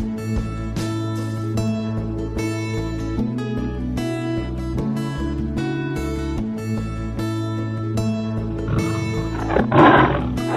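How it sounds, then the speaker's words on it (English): A tiger roars, a loud deep growling burst near the end, over steady music that plays throughout. "The tiger."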